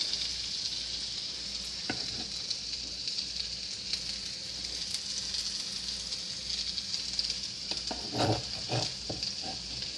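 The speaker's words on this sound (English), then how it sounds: "So we're gonna saute the onions now." Onions sauté in a pan for shrimp fried rice, producing a constant bright sizzle with scattered spatula taps and a cluster of louder stirring scrapes toward the end.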